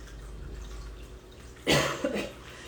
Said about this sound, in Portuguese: Gente, eu tô numa tosse chata, que é uma tosse do nada.